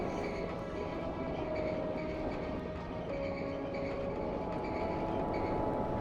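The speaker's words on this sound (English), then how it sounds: "I hear trains." Trains in the video game Factorio, a steady rumbling rolling of rail cars with faint rhythmic clatter, continuous and moderately loud throughout with no talk.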